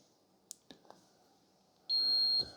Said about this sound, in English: so it beeps at us, says it's the end